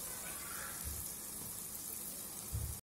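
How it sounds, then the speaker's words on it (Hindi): Masala sizzles in a pan as a little water is added to cook it, a faint, steady hiss and crackle that runs unbroken before cutting off abruptly at the end. "हम इसे पकाने के लिए इसमें थोड़ा सा पानी डाल देंगे ताकि हमारा मसाला अच्छे से पक जाए"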